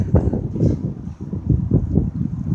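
Wind on a windy Michigan day around dusk, a steady low rumbling buffet against the microphone that swells and dips in gusts with no voices.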